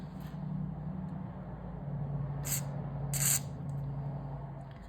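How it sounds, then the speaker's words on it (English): Two short hissing bursts of WD-40 aerosol spray onto a go-kart engine governor over a steady low engine-like hum, the second burst longer and louder. "Little spray to do it."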